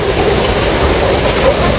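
Strong river current rushing past, a dense, continuous broadband roar of churning water, loud and close throughout with no clear voices.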